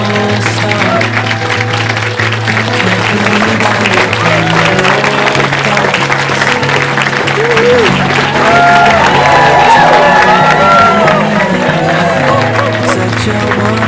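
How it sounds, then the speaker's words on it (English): Guests at a farm wedding clap and cheer right after the couple's kiss, a sustained wash of applause with scattered whoops, while music plays underneath. "Should we put a round of applause?"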